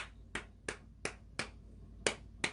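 Hands clapping a rhythm: seven sharp, crisp claps, evenly spaced at about three per second, close and clear against a quiet background with no talk.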